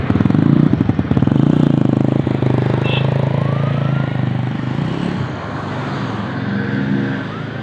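A motorcycle engine left on full choke runs loud and close, revving fast and rough at first and then easing to a lower, uneven idle.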